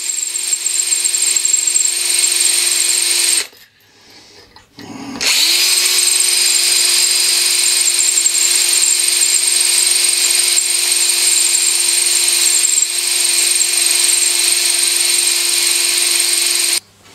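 A power drill whines steadily at high speed drilling a tapping hole in metal, pausing briefly with a dip and spin-down before starting again and running continuously, close and loud.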